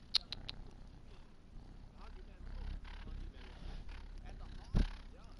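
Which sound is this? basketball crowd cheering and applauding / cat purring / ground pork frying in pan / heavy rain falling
cat purring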